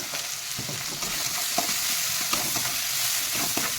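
A steady sizzle of onions frying in oil in a hot pan, with occasional sharp clicks and scrapes of a utensil stirring.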